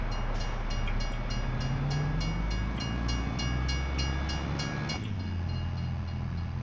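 A video game train in Farming Simulator 22 rumbles steadily past with rhythmic wheel clatter, and a horn sounds near the start before the noise shifts lower.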